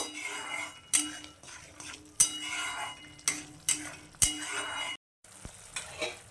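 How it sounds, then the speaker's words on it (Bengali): Ground spices with coriander powder and turmeric cooking down in oil for a soybean dish, heard as sharp metal spoon scrapes and clinks against the pan over a faint sizzle, with a brief pause near the end. "মশলাগুলোকে আমি খুব ভালো করে একদম তেল বেরোনো পর্যন্ত কষিয়ে নেব"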